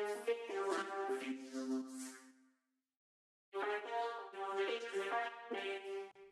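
A singer's vocal run through a vocoder and layered under a track, heard alone as robotic harmonic phrases that stop for about a second of silence, then return equally close and clear.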